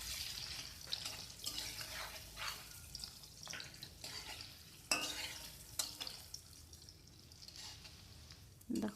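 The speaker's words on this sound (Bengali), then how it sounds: "এটাকে নেড়ে চেড়ে ভালোভাবে পেঁয়াজগুলোকে একটু ভেজে নিতে হবে।" Chopped onions are stirred and fried in a pan while a Bengali prawn malai curry is being cooked, with irregular scraping strokes of a spoon over a soft, steady sizzle, close by.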